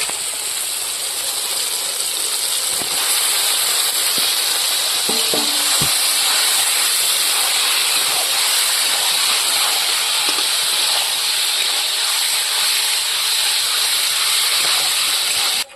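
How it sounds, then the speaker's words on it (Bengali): Marinated country chicken sizzles steadily in a pan with fried onion and tomato, a loud continuous hiss and crackle throughout with a few faint utensil knocks. "এবার আমি দিয়ে দেবো এখানে মেখে রাখা মাংস"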